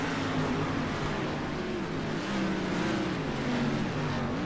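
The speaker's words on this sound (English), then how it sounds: "Seems like all these cars are the exact same speed." Street stock race cars roar past on the Cedar Lake track, engines droning and shifting in pitch as the pack runs together at steady speed, loud and continuous.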